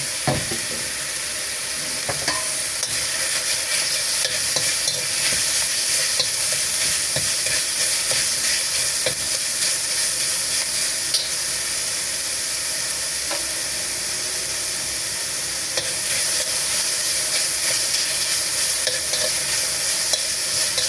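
Eggplant and tofu fry in oil while being stirred, a loud continuous hissing sizzle with scattered scrapes and knocks of the utensil, close and steady for the whole stretch.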